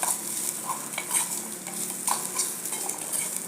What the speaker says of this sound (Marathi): आता याच्यात ओलं खोबरं घालूया आणि अगदी मिनिटभर आपण ह्याला परतून घ्यायचं आहे